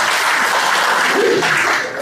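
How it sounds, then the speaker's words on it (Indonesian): Loud, dense applause fills a room as an audience at a workshop-style session claps for a couple of seconds, tapering slightly at the end. "Oke, teman-teman apapun hasilnya tepuk tangan dulu boleh ya."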